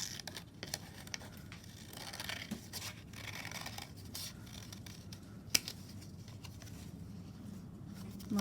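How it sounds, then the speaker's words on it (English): Scissors snip through a paper pop-up card, the cutting a soft, close scratchy rustle with small sharp snips spread across the stretch and one louder click midway; no talking. "Now what you can do with this is you can cut it into a shape."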